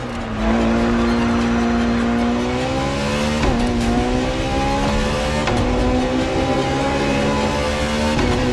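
Ferrari FXX-K track-only race car in The Crew Motorfest, its engine howling loud and close with rising harmonic sweeps as it accelerates through gears, brief dips at shifts, and a hint of tire squeal.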